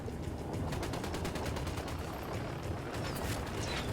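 Dense automatic gunfire from the video game Ghost Recon Wildlands, a loud continuous barrage of rapid shots with heavy rumbling underneath, lasting throughout without pause.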